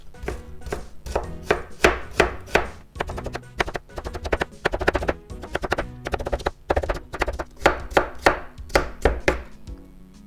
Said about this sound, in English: I'm gonna cut up like this, and then at the end I'll have a very evenly cut up strips of carrots